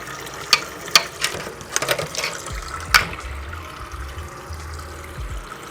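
Wort draining from a brewing vessel while making pumpkin ale, a low trickling flow under clanking and ratcheting metal clicks from the equipment, with a few sharp knocks near the start.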